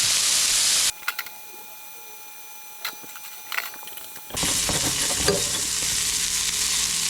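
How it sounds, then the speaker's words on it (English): Top sirloin steaks sear in a hot pan, a loud hiss that suddenly drops away, leaving faint crackles and a few clatters before the full sizzle surges back and holds. "I'm also going to sear some nice top sirloins to go with my dinner tonight"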